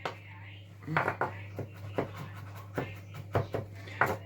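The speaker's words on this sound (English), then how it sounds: "slice it that way, and then I'm going to slice it or cut it like that." A knife slicing food on a board while making mushroom rice, with a series of irregular close cuts and clicks against a low steady hum.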